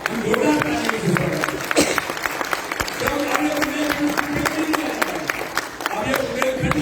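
A crowd at an inauguration ceremony for a convention centre in Khajuraho breaks into loud, sustained applause, a dense rapid clatter of many hands that carries on for several seconds with some voices mixed in.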